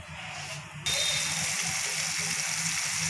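Half a glass of water is poured into chole curry cooking in a pan, a sudden loud splash followed by a steady bubbling sizzle that continues to the end.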